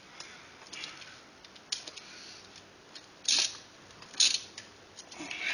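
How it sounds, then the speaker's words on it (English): Engine bolts on a Chinese motorbike engine being tightened by hand with a ratchet, giving sparse metallic clicks and short ratcheting bursts, close and fairly quiet, with no talking. "You go around bolt to bolt, even though you thought you've tightened up one, go back to it and give it a little extra"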